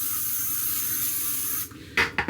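Hairspray sprayed onto styled hair, a steady hissing aerosol stream lasting well over a second, then a pause and a few shorter bursts close by, with no talking.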